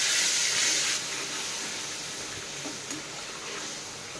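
Small splashes of water hitting spices frying in a pan, a sudden bright steamy hiss that is loudest at first and then settles into a softer, continuous sizzle, close by with no talking.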